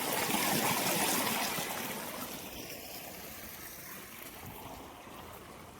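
Water from an 8.5 motor pump pours into a wheat field, a steady broadband rushing and gushing that starts strongest and settles slightly, continuous and close with no voices.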